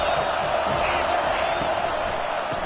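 Home stadium crowd cheering in the College Football 25 video game, a loud sustained roar that fills the whole stretch, with a commentator talking over it.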